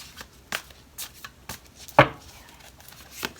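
Tarot cards are riffled and snapped in short bursts, about six quick shuffles spaced unevenly, close and crisp with no voices.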